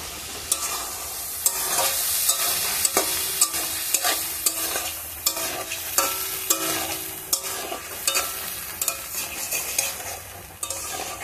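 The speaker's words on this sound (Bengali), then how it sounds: "লোটে মাছ একটু ভালো করে তেলের মধ্যে কষিয়ে নিয়ে তারপরে আলু ছেড়ে দেবো।" Bombay duck fish and potato pieces are stirred in hot oil, producing a loud, continuous sizzle punctuated by repeated sharp scrapes and clinks of the spatula against the pan.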